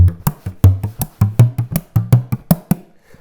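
A bodhrán played up close in a steady pattern, mixing deep booming open bass strokes with sharper, tighter push bass hits, about a dozen strikes.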